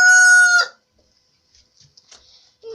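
A rooster crows once, loud and close, the call ending abruptly and followed by near silence with faint distant noises.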